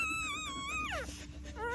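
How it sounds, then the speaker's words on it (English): Newborn puppies whimper close by in a litter, thin high-pitched wavering whines and a brief sliding cry, faint and alone. "All these puppies."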